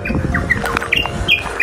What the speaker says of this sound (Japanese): すげえ鳥の鳴き声めっちゃ聞こえる。